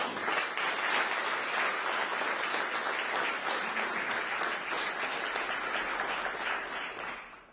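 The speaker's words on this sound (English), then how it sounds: "you better get an applause after that one" Steady audience applause at a San Francisco public health update by the mayor, a continuous wash of clapping that is somewhat distant and tapers off at the end.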